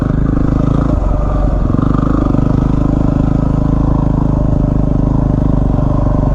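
A Yamaha WR250R dual-sport motorcycle ridden gingerly off road, its engine droning loud and steady up close, with rattling and scraping of the bike over rough ground.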